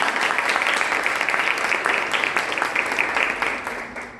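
Loud, dense applause from an audience honouring NSS student volunteers at a World AIDS Day awareness lecture, a steady wash of many hands clapping together that fades slightly at the end.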